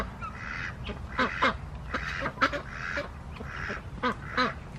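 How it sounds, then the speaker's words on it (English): A group of young farm ducks quacking in a yard, several loud nasal calls in uneven bursts close by over a quiet outdoor background, no talk. "Got our baby ducks. They're not so baby anymore."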